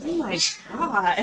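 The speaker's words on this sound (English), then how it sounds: "That was a cat." A cat meows in short rising and falling calls close by, mixed in with people talking over the top.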